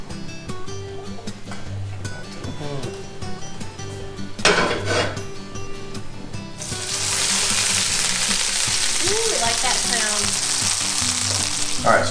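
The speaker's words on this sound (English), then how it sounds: "we've got the gnocchi in there and it's gonna start to crisp up" Gnocchi fry in a hot pan and crisp with a loud, steady sizzle, joined by clinks of utensils and pan stirring close by. The cooking is happening outdoors after a night of crappie fishing.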